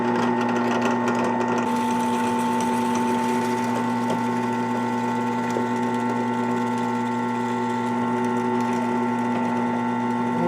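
A steel karambit blade, backed by wood scrap and clamped in a vise, is ground with a steady, continuous machine whir and buzz that holds at an even, loud level throughout, with no talking.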